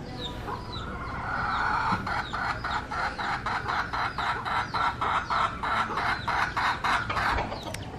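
Tethered chickens in Bohol, Philippines cluck in a steady, rhythmic series of short calls, fairly close, with a few scattered bird calls mixed in and no talking.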